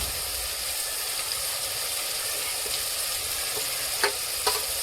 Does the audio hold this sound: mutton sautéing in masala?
yes